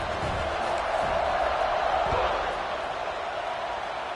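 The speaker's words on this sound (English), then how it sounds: "this crowd is buzzing after that last score" A college football stadium crowd buzzes after a score, a steady, dense roar of many voices that fills the whole stretch at an even level, with no single shout standing out.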